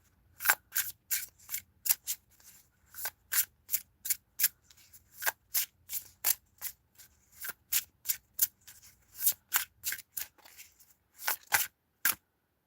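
Tarot cards are shuffled in quick, crisp riffles and snaps that come in short, irregular bursts with pauses between them, close and fairly quiet against near silence.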